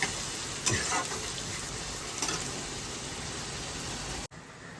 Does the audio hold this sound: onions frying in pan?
yes